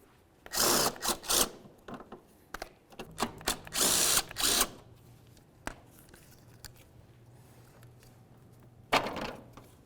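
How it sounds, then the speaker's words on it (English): A power tool spins off 10mm nuts behind the grille of a 2000–2005 Buick LeSabre, with several short whirring bursts separated by brief pauses, the last one after a longer quiet gap. "we can remove all of our 10mm headed nuts"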